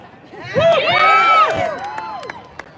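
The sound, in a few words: crowd cheering at a rally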